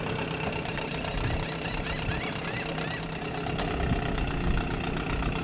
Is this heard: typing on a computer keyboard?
no